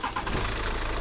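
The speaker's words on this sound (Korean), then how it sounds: "과연 한 번에 시동이 걸릴지 시도해 보겠습니다." A BMW F10 with a B47 diesel engine cranks and fires after fuel hoses are replaced, settling into a steady, loud, close mechanical rumble with no talking.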